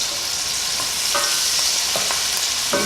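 Chicken stew with onions fries in a pan, giving a loud, steady close sizzle with a few brief scraping stirs cutting through it.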